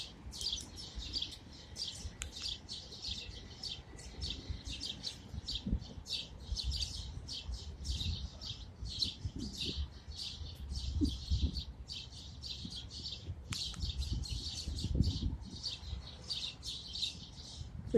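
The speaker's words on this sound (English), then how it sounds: "because there's a lot of birds here" Many small birds chirp and tweet in a dense, continuous high chatter from a nest in an urban city, with low rumbling traffic-like noise underneath throughout.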